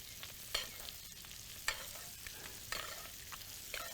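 Fish fries in a hot pan with a constant sizzle, broken by sharp clinks and scrapes every second or so as it is stirred and turned, close and clear with no talk.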